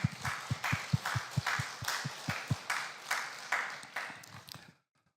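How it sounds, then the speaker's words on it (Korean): A church congregation at a Korean Sunday worship service claps together in quick, steady, rhythmic beats for several seconds, fairly loud and close, then stops abruptly. "격려 박수 부탁합니다"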